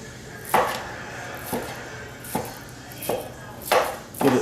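Hamburger meat being broken up in a pan with a utensil for hamburger gravy, heard as five or six sharp scraping chops spaced about a second apart, fairly close, with no talk.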